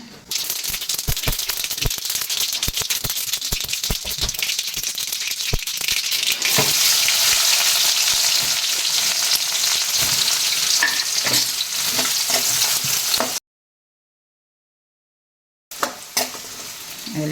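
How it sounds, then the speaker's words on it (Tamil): Steady loud sizzling of spices tempering in hot oil in a frying pan for fried rice, with occasional stirring clatter, then a short silence before the sizzle resumes. "ஃப்ரைட் ரைஸ்க்கு வந்து தாளிக்கு போட்டுக்கிறேன்"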